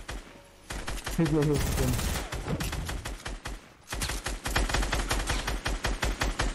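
Rapid automatic gunfire in the battle royale game Fortnite, loud dense bursts of shots that pause briefly and then resume, with a player talking over the shooting.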